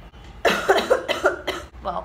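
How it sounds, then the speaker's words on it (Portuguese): A person coughs in a hotel room, a few harsh bursts in a row, loud and close, with no talk around them. "Tosse não é contagiosa."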